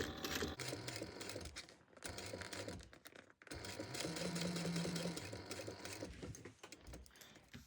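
A sewing machine stitches a curved fabric mouse ear onto the front panel of a bag. It runs in quick close bursts of rapid chattering needle strokes, broken by short pauses, with no talking.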